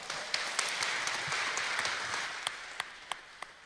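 Audience applause at a church gathering, a steady wash of clapping with sharper individual claps standing out toward the end, moderately loud and with no talk over it.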